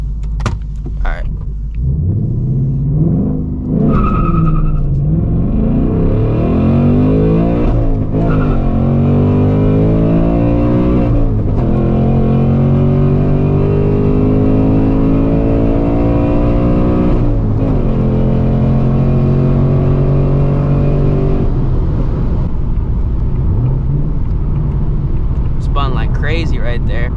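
A 2024 Ford Mustang GT V8 launching down a quarter-mile strip, heard from inside: a loud rumbling idle, then a hard full-throttle pull with rising revs broken by several gear shifts, sustained and close, with brief talk at moments.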